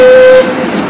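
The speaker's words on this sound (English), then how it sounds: "The train! The railroad!" A Disneyland railroad train close by, loud rumbling with a steady tonal horn or whistle blast that cuts off after a moment, leaving the rolling train noise.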